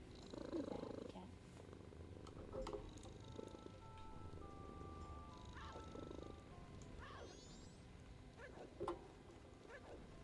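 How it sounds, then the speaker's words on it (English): A happy pet cat purrs up close, a soft, steady, rhythmic rumble with occasional small clicks and shuffles, quiet and intimate. "so we can listen to the purrs while I do this"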